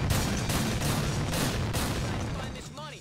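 Dense rapid gunfire in GTA 4, a continuous loud barrage of shots that fades slightly toward the end, where a voice briefly speaks over it.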